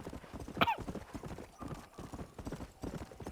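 Horse hooves clip-clopping in a steady galloping rhythm in Red Dead Redemption, with a brief whinny near the start, under faint game ambience.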